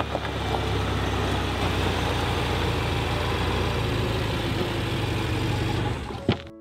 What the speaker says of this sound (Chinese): 发动机是能够正常工作，但是总感觉它这个声音有点不太对劲